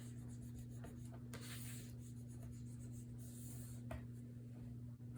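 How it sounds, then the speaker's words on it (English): A hand smooths paper outward from the center so it lies flat on a Stamperia Oh La La mini album page, giving a soft, continuous rubbing and brushing close by over a low steady hum. "I'm going to smooth this outward so this lays flat and tight."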